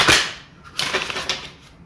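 A deck of tarot cards being shuffled during a reading, heard as two quick bursts of riffling clicks, the second longer and fuller, close and moderately loud with no talk.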